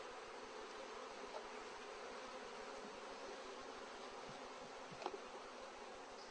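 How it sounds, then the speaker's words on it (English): Stingless bees buzzing around a hive box, a steady faint drone of many insects close by, with no talking. "These are the stingless bees I raised."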